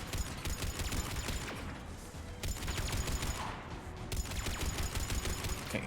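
Pistol fire in Mass Effect 3 on Insanity difficulty crackles in dense, rapid bursts amid a continuous roar of combat, loud and close, with brief lulls between volleys.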